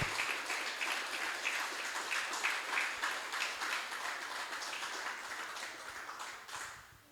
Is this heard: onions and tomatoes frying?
no